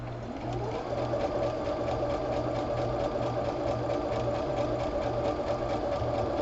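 A sewing machine steadily stitching two fabric pieces together for a crumb quilt square, its even, rapid mechanical hum and needle ticking running continuously and close.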